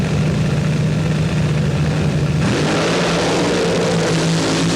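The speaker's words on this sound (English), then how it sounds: "Both cars leaving almost together, but Terry Capp appears to be pulling out at the finish line" Two Top Fuel dragsters launch nearly together in round one of the 1982 NHRA Winston World Finals, a loud, continuous engine roar that shifts in pitch midway through the run.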